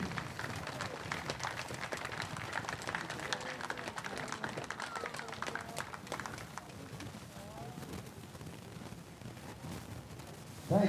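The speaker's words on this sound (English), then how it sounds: "So let's have a round of applause for all of these special ladies." Spectators at a Pierre versus Lincoln high school baseball game applaud mothers honored on the field, a long steady round of outdoor clapping and crowd noise, fairly distant and even, with murmuring voices underneath.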